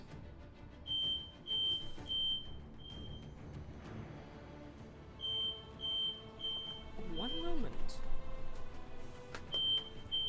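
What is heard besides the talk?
smoke alarm beeping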